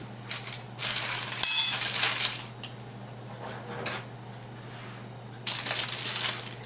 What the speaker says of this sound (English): I'm going to get my crust into my pie pan here.